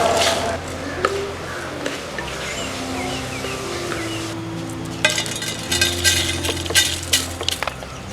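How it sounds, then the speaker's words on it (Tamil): Curry leaves fry in a pan during traditional Jaffna village cooking of a bilimbi curry. A steady sizzling hiss runs throughout, with utensil clinks and scraping that pick up near the end, under a faint background voice. "இது கொஞ்சம் வறுபட வேணும்."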